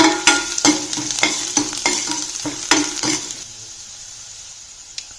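Green chilli, garlic and ginger with cumin frying in a pan on a low flame, with a spoon scraping and stirring in quick repeated strokes over a soft sizzle that fades to near quiet.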